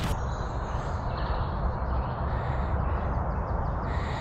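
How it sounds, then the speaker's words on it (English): Morning birds calling outdoors before 6 a.m. at a steady, moderate level over a constant background hum, with a few harsh crow-like caws mixed into the chorus. "Can you hear all the bird song?"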